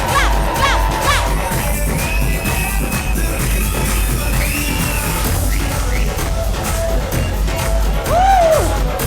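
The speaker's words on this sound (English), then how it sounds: "make some noise! Clap, clap, clap, clap!" An audience at a Shiamak Summer Funk 2025 dance show staged by Happy Feet Dance Academy cheers loudly and steadily, with whoops and children's shouts rising over a dense crowd roar throughout.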